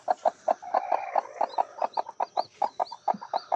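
A hen sitting over newly hatched ringneck pheasant chicks clucks in a quick, steady series of short, close, moderately loud calls, with faint high peeps from the chicks between them.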